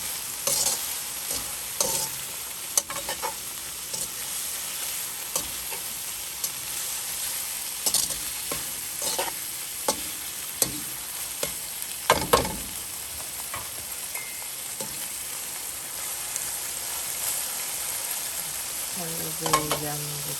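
Vegetables stir-fried in a pan for a Thai basil stir fry, with a continuous sizzle broken by frequent scraping and clattering stirring strokes throughout.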